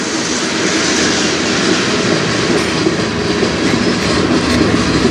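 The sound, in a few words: CN freight train passing on the Strathroy Subdivision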